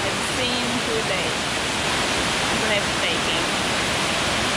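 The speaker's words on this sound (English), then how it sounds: "This is the most spectacular waterfall" Steady broadband rush of a spectacular waterfall in Jamaica near Ocho Rios, loud and continuous at close range, with no voices over the roar.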